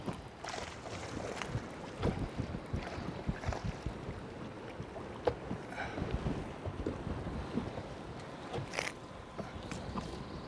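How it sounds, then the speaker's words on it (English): Wind gusts buffet the microphone out on a lake over a reef while fishing from a boat, a steady rushing roar with scattered thumps and knocks and no talk. "Wind's blowing like heck, blowing right over a reef."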